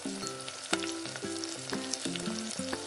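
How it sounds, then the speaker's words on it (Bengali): Rui fish pieces frying in hot oil for kalia, a loud, constant close sizzle with crackling bursts and a repeating rhythmic background tone, no voices. "মাছগুলোকে এপাশ ওপাশ করে আমি লাল লাল করে ভেজে নেব।"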